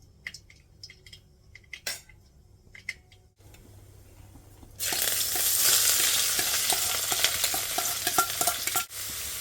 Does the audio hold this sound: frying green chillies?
yes